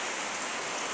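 Rain falls steadily in the Nyalenda slum of Kisumu, Kenya, a dense even hiss of drops on surfaces close by, with no voices over it.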